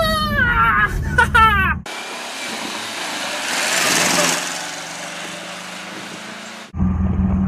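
A small car's engine revving and pulling as it accelerates, a steady rising mechanical roar that swells in the middle, bracketed by an excited voice before and after.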